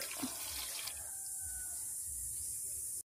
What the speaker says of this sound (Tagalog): After condensed, ilagay natin yung tubig.